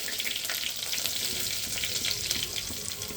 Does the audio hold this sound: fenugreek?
yes